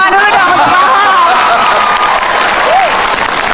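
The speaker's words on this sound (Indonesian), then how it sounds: "tepuk tangan dulu dong untuk Pak Ahok" Audience applause for Pak Ahok at a stand-up comedy show, Mata Najwa studio: dense, steady clapping filling the whole moment, loud and close, with some crowd murmur and voices mixed in.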